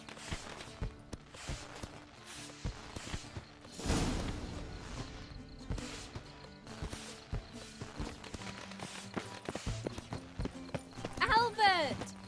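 Saddled horses clip-clop in the Witcher 3 video game, a steady run of hoofbeats with occasional creaks and a whinny, heard beneath game music and talking.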